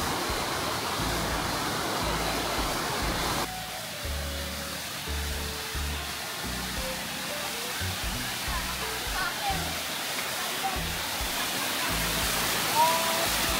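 Steady broadband roar of a waterfall on Samal Island fills the scene, with people talking over the rushing water throughout.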